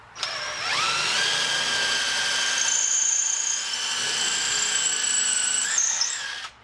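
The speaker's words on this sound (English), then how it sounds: "I'm going to pre-drill for the first couple of screws" A power drill pre-drills screw holes in a porch roof truss during a roof rebuild, its motor whining up to a steady high pitch and holding for about six seconds before spinning down, close and loud with no talk.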